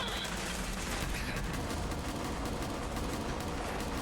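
Sustained automatic gunfire from a gun in Fallout 4 fills a corridor, rapid dense shots running steadily and evenly throughout, loud and unbroken.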